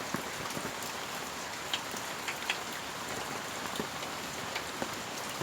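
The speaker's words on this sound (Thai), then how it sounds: "ก็ฝนกำลังตกเลยค่ะ" Steady rain falls over outdoor ponds used for breeding rice-field crabs, a dense, even patter with scattered louder drops nearby and no voices.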